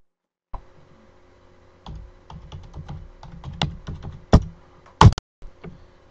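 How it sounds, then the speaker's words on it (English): Computer keyboard keys being tapped to enter a username and password, with irregular bursts of close, crisp clicks and a few louder keystrokes over a quiet background. "I'm going to enter in a username and a password."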